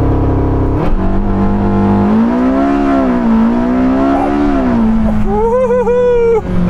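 A Porsche 918 Spyder on a 0-96 km/h timing run, its engine loud and close as it revs steadily upward through gear changes, with tyre noise and a high whine rising toward the end.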